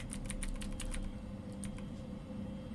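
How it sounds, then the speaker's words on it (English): Keyboard typing inside the video game Fears To Fathom comes as quick bursts of light clicking keystrokes, closely spaced and then pausing, over a low steady background hum with no speech. "that is not what I'm typing!"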